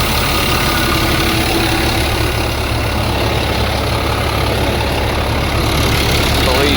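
An old engine that had sat unused for years idles steadily and loudly up close, its low, even rumble running without a break while someone talks over it.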